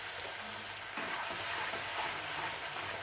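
Paneer masala mixture seasoned with Maggi masala is stirred in a pan for a Punjabi-style dish, giving a steady, close sizzle and frying hiss with soft scraping throughout and no voices.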